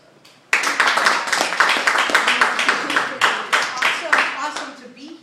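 An audience breaks into applause for a chef after an introduction, loud close clapping that begins abruptly and runs steadily for several seconds before thinning out.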